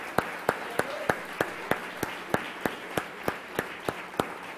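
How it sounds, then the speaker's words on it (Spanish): A church congregation claps together in a steady, even rhythm, about three sharp claps per second, moderately loud and clear with no talk over it. "Démosle un fuerte aplauso al Señor."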